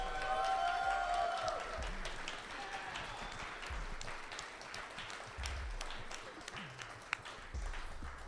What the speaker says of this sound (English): let's give a big round of applause for all our competitors today